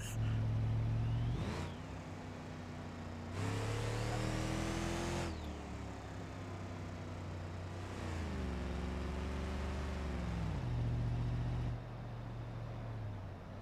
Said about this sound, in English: I just love the turbo noise.